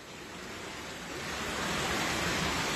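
Floodwater rushing around a Buddhist temple in Laos, a steady broad roar of flowing water that swells slightly louder over the clip, with no voices.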